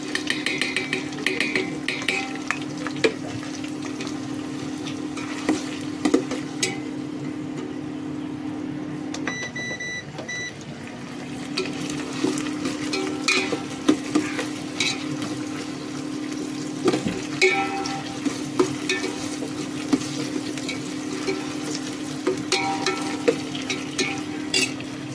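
Onion and garlic fry in a pan with a continuous low sizzle, punctuated by frequent scraping and clinking stirs, plus a steady hum and a brief pause in the middle.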